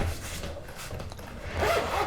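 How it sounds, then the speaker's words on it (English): Zipper on the case of a budget student violin being drawn open, a close, quiet raspy zip with several short rubbing pulls, strongest toward the end. "I see that on the top here there's a zipper"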